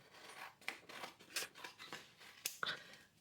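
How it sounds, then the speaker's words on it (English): Scissors snip through paper while a Christmas-tree tag is cut out, giving a run of close, crisp cuts in an uneven rhythm, with no voices. "And let me cut this out."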